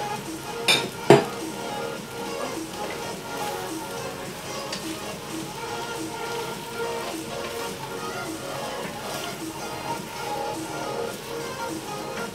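Green beans go into a simmering pot of Creole vegetarian gumbo, with a couple of clanks from pot and utensil at the start, then a steady low sizzle and bubbling.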